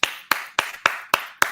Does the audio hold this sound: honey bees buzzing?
no